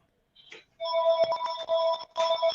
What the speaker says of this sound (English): your house phone's ringing